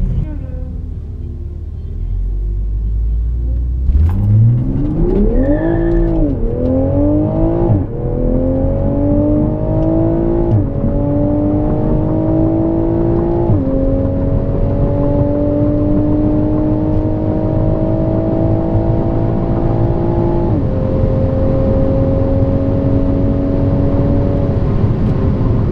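A Toyota Supra on a half-mile roll racing pass accelerates hard, its engine tone climbing in repeated sweeps as it shifts up through the gears, loud and sustained for the whole run.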